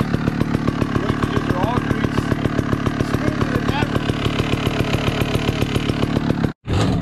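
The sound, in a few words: Sherco/Scorpa trials motorcycle engine being ridden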